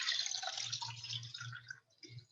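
Water poured into a glass for a home colour-mixing science experiment: a steady splashing trickle for about two seconds that dips, then resumes briefly, close by with a low background hum.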